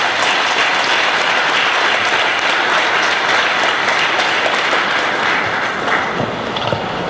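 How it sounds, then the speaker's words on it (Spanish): Sustained applause from a church congregation welcoming a couple, dense steady clapping filling the room at even loudness throughout. "Vamos a recibir a René y a Gloria con un aplauso"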